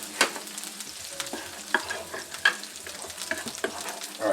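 Salmon sizzles steadily in a pan, with repeated scraping and tapping as it is stirred and turned, close and moderately loud.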